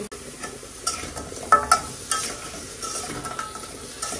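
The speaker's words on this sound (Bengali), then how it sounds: "লবণটা এটা এই যে নাড়াচাড়াটা মিশিয়ে দিলাম" Salt is stirred into frozen greens and eggplant in a frying pan, with a few sharp scraping strokes and light clinks over a gentle sizzle, close and fairly loud.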